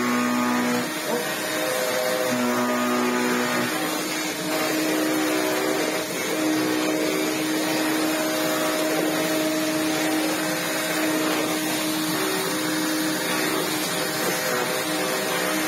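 A vacuum cleaner runs steadily throughout, a loud continuous whirring hum with faintly shifting tones as it is moved about, close by.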